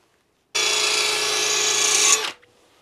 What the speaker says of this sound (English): when using this stone on the drill, make sure you've got the drill spinning the right way